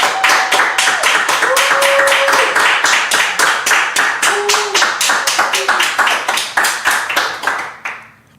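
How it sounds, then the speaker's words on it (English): An audience claps in unison at a spiritual gathering, sharp, evenly spaced beats in a fast steady rhythm that keeps going for several seconds before stopping abruptly with a short fade. "It's always interesting, like how claps can start getting in sync"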